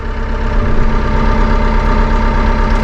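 A Massey Ferguson 2M.60 compact utility tractor with a 60.3 hp engine and eHydrostat transmission idles steadily while its loader raises and lowers, a loud, even, close engine drone.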